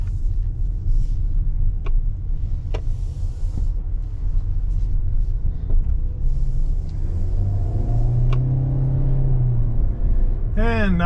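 A 2023 Kia Soul EX pulls out of a dealership lot, with a steady low engine and road rumble heard from inside the cabin, a few sharp clicks, and a rising hum near the end.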